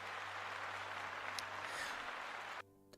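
A broadband wash of applause rings out in a room for a round of clapping, steady and fairly soft, then cuts off abruptly near the end.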